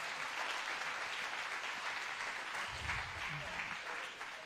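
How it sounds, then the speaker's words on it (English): A church audience applauding and cheering, dense clapping that holds steady throughout, with voices mixed into the crowd noise. "Let's just cheer her on."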